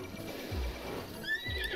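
A horse whinnies loudly with a rising, shaky neigh near the end, over low rumbling thuds and clanking in a busy Zelda: Breath of the Wild game soundscape.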